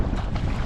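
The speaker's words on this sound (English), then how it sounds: "from the wind and the waves." Strong wind buffets the microphone with a loud roar while waves wash around a sea kayak near a rock wall, a brief, constant burst with no voices.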